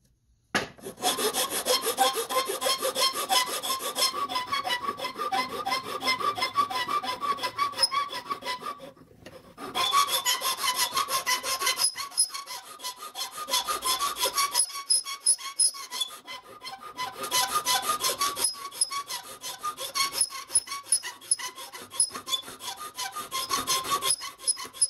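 Hand file rasping along the edge of a wooden guitar body, steady back-and-forth strokes in three long bursts separated by brief pauses, close and fairly loud with no talking.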